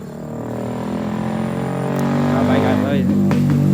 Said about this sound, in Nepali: बाइक आएको है